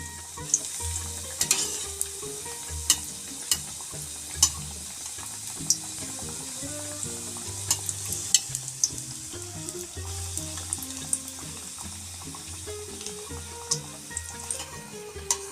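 Mughlai paratha frying in oil in a pan gives a steady, soft sizzle with occasional sharp crackles and pops spread throughout, fairly quiet and with no voices.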